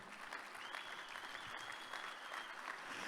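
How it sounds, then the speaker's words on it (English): An audience at a business summit general session applauds in a sustained, even wash of clapping, quiet overall with no pauses. "big round of applause for him"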